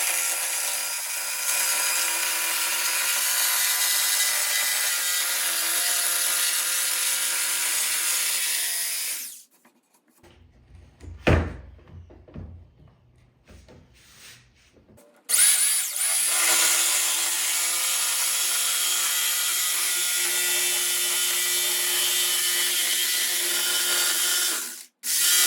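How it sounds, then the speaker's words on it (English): A jigsaw cuts excess wood away from a securely clamped template, running loud and steady in two long passes separated by a short quieter pause filled with light handling noises. "I used a jigsaw to remove the excess wood"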